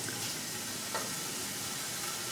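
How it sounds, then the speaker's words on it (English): Diced chicken frying in a heated pan, a steady close hiss and sizzle with faint crackles throughout. "So I have a pan here, and it's heated up, so I'm just going to put in the chicken that I had diced earlier."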